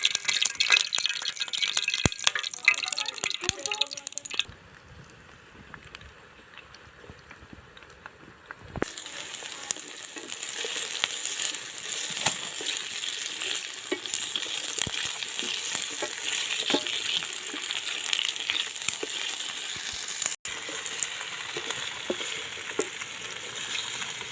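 Cooking oil sizzles and crackles in a pan in a village kitchen, a dense continuous frying hiss with stirring rattles, briefly quieter in the middle before resuming loud.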